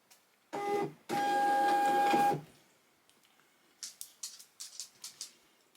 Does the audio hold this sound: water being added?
no